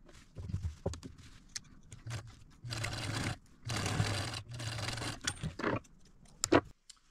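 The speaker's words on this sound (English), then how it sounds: "I'm going to go sew that those two seams right now." A sewing machine stitches the shoulder seams of a child's dress in several short, close bursts with a steady motor whir, separated by quiet pauses and small handling clicks.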